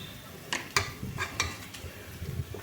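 Capsicum, onion and coriander powder being stirred in a pan, with a few scraping clinks of the spoon against the metal over a soft background sizzle, at close range.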